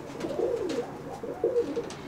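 Pigeons coo in Veria, Greece, with soft, low, throaty warbling calls that roll in two phrases over steady faint background noise, fairly close and without talking.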